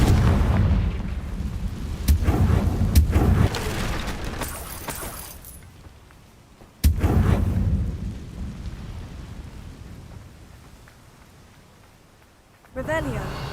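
Confringo fire spell explosions in the video game Hogwarts Legacy boom loudly, with a sudden sharp blast mid-way that fades into a long rumbling tail, followed by another burst near the end. A player talks over the first part.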